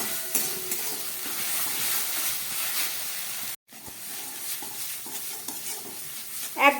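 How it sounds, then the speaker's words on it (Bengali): A paste of onion, ginger and garlic fries in a pan for chana masala, a steady hissing sizzle with scraping stirs throughout, briefly cut off midway and resuming with clatter, close and without talk. "পেঁয়াজ আদা রসুনটা ভেজে নিলাম"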